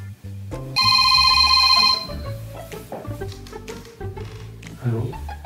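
A telephone rings indoors with a single loud, bright electronic ring lasting about a second, set among other clattering sounds and busy background noise.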